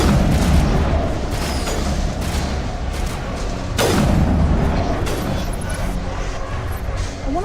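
Gunfire in Mass Effect Legendary Edition pours out as a dense, continuous barrage of overlapping shots and booms, loud and close throughout, with a sharper heavy blast standing out midway.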